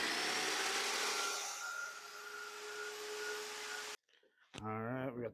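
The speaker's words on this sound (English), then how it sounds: "We're gonna go ahead and drill these out." Drilling out stuck screws on Jeep mirrors with an 1/8 inch bit: a steady, loud whirring drill runs for about four seconds, then cuts off abruptly, followed by a brief voice.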